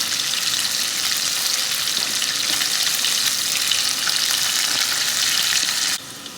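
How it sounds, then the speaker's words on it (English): Okra from the garden fries in a pan, a loud, dense, continuous sizzle close up that drops slightly near the end. "So we'll have some okra, fried okra in a few minutes."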